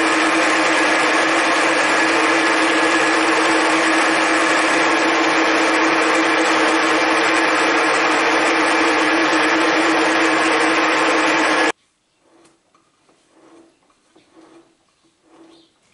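A machine tool drills and taps holes for set screws in metal knobs, a loud steady whine with a constant tonal hum that cuts off abruptly near the end, leaving faint workshop knocks and quiet background.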